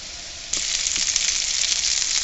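Pork meatballs for a Quebec pork-hock stew dropped into a hot pan, a sudden loud sizzle that kicks in abruptly and holds as a dense, crackling hiss close by.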